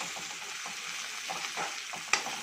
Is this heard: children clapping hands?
no